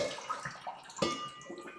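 Water runs from a tap into a pot for pasta, a steady splashing and gurgling stream with changing pitch as it fills, close and moderately loud, no talking.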